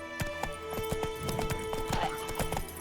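Roach the horse gallops in the video game The Witcher 3, hooves clip-clopping in a quick, steady rhythm at moderate distance, fairly quiet, with faint game ambience behind.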